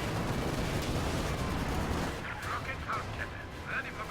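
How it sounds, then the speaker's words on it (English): Anti-tank gun fire in Company of Heroes 2, as a dense, loud rumble of artillery and gunfire through the first half, then thinning out to scattered shots and battle noise. "Anti-tank gun from the side."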